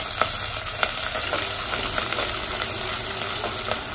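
Curry leaves and coriander frying in a pan give a busy, steady sizzle with sharp crackles and pops scattered through, close and fairly loud, with no talking.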